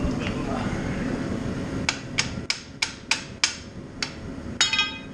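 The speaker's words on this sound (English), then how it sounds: "The hammer and just pound her off." A hammer pounds a part off a car's suspension, probably an upper control arm: eight sharp metallic strikes at an irregular steady pace, loud and close, following a stretch of background noise and low voice.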